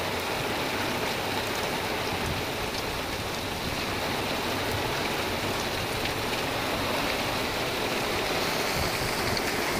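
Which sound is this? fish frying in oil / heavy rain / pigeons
heavy rain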